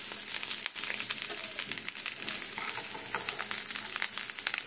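Potatoes frying in the same oil used for a chickpea chaat, giving a steady, close sizzle with crackling bursts throughout and no talk.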